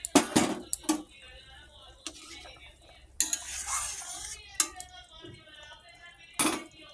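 A lid clatters onto a pot of simmering fish curry with potatoes, giving several sharp metallic clinks and knocks over a soft background bubbling.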